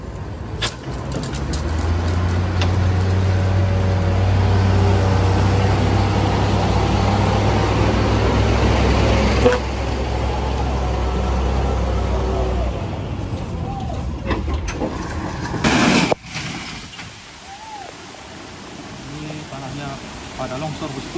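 A heavy vehicle engine labours and revs steadily while a loader pushes it from behind along a rough, landslide-damaged national road at Batu Jomba, loud and continuous with a sharp clunk near the end and voices talking over it.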